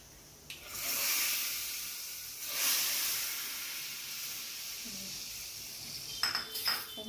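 Hot tempering of mustard seeds, cumin, asafoetida, turmeric and curry leaves poured into sambar, a loud hissing sizzle surging twice and fading, with a few metallic clinks of a utensil toward the end.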